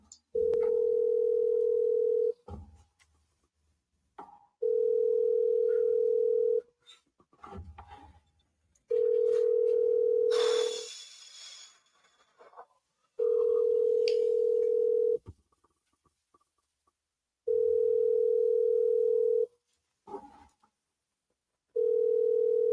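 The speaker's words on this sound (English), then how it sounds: "That's a lot of rings. Must be a house phone." Outgoing call ringback to a house phone: a steady electronic tone pulses in long, evenly spaced bursts, about five rings with quiet gaps and faint handling noises between them.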